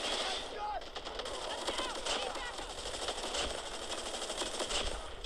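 Rapid automatic gunfire from a Call of Duty multiplayer match, dense bursts of shots filling the mix continuously with game effects, while a player talks over it.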